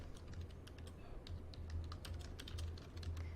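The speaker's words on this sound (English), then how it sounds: "So then you would type in that part." Rapid, irregular clicking of computer keyboard keys being typed in a short burst at close range, steady throughout with no talking.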